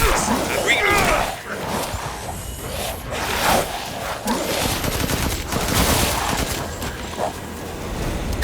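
Gunfire in Resident Evil Village fills the stretch as continuous rapid bursts, loud and close, mixed with battle noise while voices talk over it.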